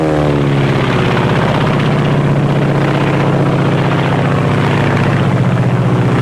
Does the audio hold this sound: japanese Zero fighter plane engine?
yes